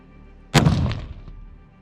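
A single rifle shot during an Alaskan caribou hunt cracks sharply and close, followed by a rolling echo that decays over about a second in open country.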